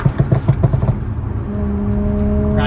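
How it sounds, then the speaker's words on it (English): A tuned Audi B9 S4 running on E85 fuel idles with an irregular burble, giving a quick series of crackling pops from the exhaust before it settles into a steady hum. It is fairly close and has no speech over it. "one of the things we've got is crackles"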